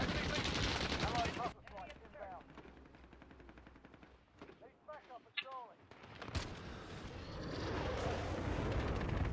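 Heavy gunfire concentrated on a capital ship in Call of Duty Modern Warfare 2019 multiplayer: dense rapid bursts of shooting and booming blasts, loud at first, easing under a player's exclaimed voice in the middle, then swelling back to a sustained roar.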